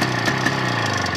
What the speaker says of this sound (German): Hört man 2 Takter schon raus. Klingt ein bisschen wie so ein kleiner Roller.